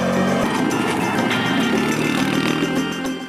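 A KYMCO MXU 550 T3 quad's engine accelerates with a loud, continuous buzzing drone that holds steady close by and eases slightly at the end, with no talk.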